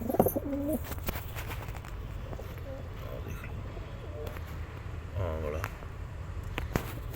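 Pigeons coo in soft repeated phrases near a loft, with a few brief bird calls and ambient noise; a person speaks intermittently over them.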